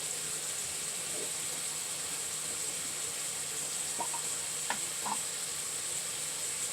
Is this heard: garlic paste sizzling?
yes